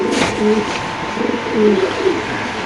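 Pigeons, including Punky breeds, coo at a pigeon market stall: soft, throaty rolling calls in a couple of short bursts over steady crowd and background hum.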